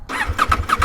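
A CFMOTO 800 MT motorcycle fitted with an SC Project exhaust cranks and fires up, a short burst of rhythmic starter pulses catching into a close, loud engine note with no talking.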